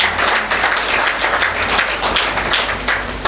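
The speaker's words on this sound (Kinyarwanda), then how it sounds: "Amashyi menshi kuri Yesu." A church congregation breaks into loud, dense clapping during a sermon, a steady close roar of many hands that holds for a few seconds with no speech over it.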